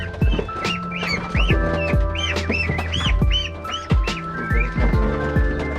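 A flock of ducks calling busily, with overlapping quacks and chirpy calls repeating close by, steady and fairly loud throughout.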